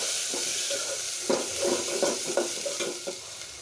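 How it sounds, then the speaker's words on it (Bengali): Ginger-garlic, cumin and onion paste with ground nuts and raisins frying in oil in a pan for quail egg biryani, a steady close sizzle broken by several scraping stirs. "মশলাটাকে ভালোভাবে কষিয়ে নেব"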